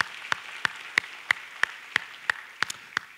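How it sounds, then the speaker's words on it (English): Slow, evenly spaced hand claps, about ten in three seconds, sound in a church congregation, each crisp clap standing alone over a quiet room. "Let's give those who came down a big hand clap of encouragement"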